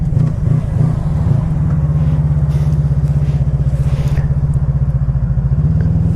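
A Honda Magna Legend motorcycle engine idles close by, a loud, steady, even low throb that runs smoothly throughout the clip without sputtering.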